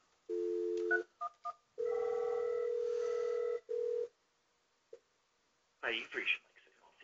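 A telephone call placed to a ShoreTel voicemail: steady dial and ringback tones in several long bursts with short gaps, then a brief click and a recorded voice greeting at the end.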